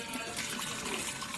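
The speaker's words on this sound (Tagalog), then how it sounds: "Haluan natin ng tubig na malamig." Cold water pours into a cooking pot for mixing during camp food preparation, a soft, continuous splashing and trickling throughout, fairly faint and close, with no voices.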